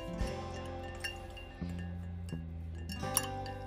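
A spoon clinks against a glass while stirring an egg experiment mixture at home, four or five light, ringing taps spaced over a few seconds, close and fairly quiet.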